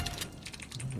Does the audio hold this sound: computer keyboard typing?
yes